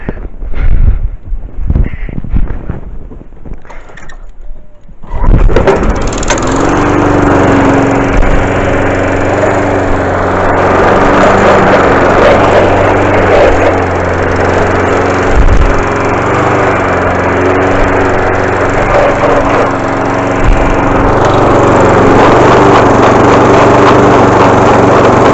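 A rotavator engine starts after a few seconds of quiet handling noises, then runs loudly and steadily with a rough, shuddering, juddering rumble.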